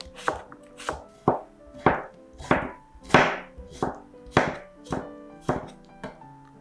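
A knife cuts a cucumber into half-rings on a cutting board, about a dozen crisp, evenly spaced cuts, close and clear with nothing else audible.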